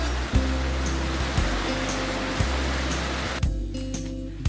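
The Three Forks River rushes loudly and steadily close by on a hiking trail, with a few soft thumps recurring over the constant roar of the water.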